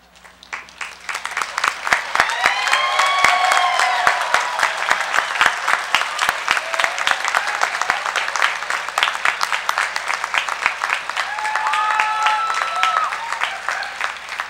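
A large audience at a university engineering commencement applauds graduating honors students, steady dense clapping that swells and holds for about fourteen seconds, with faint whoops and voices woven through the crowd.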